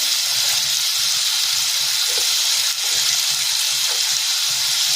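Thin potato slices (batata kacharya) fry in extra oil in a pan with a loud, steady, close sizzle, with no talk.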